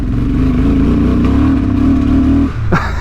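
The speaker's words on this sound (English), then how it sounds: "So first gear here, right, full throttle." A 2023 Honda Transalp XL750 adventure motorcycle at full throttle in first gear, its loud, close engine droning at a steady pitch before it suddenly cuts out and the pitch drops, with no talk.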